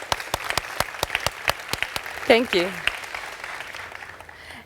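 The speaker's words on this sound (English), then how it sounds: "Would you please help me to applaud them?" An audience at a corporate recruiting conference claps in an even, close rhythm, then a person speaks briefly over the applause before the clapping thins out and fades.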